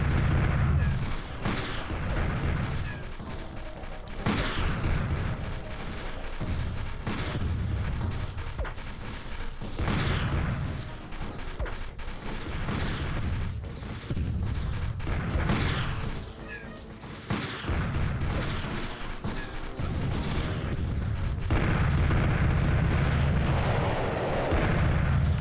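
Guard tower gunfire in the PlayStation game Army Men: Green Rogue, deep bass booms repeating every few seconds over steady game music and effects.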